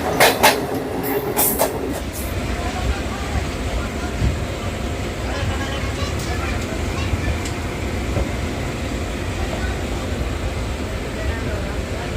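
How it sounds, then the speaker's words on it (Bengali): A train pulls out of Ahmedpur Junction on the way toward Rampurhat, a steady rolling rumble with rail rattle filling the whole stretch after a brief louder burst at the start. "আহমদপুর জাংশন থেকে এবার আমাদের ট্রেন ছেড়ে দিল"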